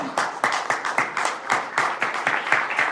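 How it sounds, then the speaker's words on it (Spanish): Church congregation clapping in praise to the Lord during a sermon, with a rhythmic, fairly close series of distinct claps in a steady beat. "Démosle un aplauso al Señor"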